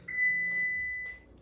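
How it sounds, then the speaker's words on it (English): Kitchen timer on an oven going off with a single sustained electronic beep of about a second, clear and fairly close in a quiet kitchen. "My timer has just gone off."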